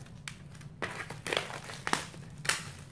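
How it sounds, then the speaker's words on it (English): Thin plastic film is peeled off a cheap picture frame, giving soft irregular crinkles and crackles close by in short bursts, fairly quiet with no talk. "cut the little plastic film that they have off of it."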